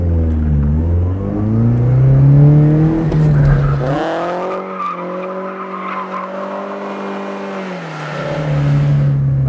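A car drifts sideways around a turn on a drift-training course, its engine droning and revving loudly and steadily throughout, with a sustained sliding tone and a slight dip in pitch midway.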